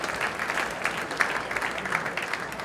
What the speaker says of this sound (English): we have a round of applause for last-minute people who have their decks ready to go